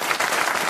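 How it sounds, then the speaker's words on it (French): Studio audience applause on a French radio comedy panel show, a brief, dense burst of clapping heard alone. "On vous applaudit, on vous embrasse."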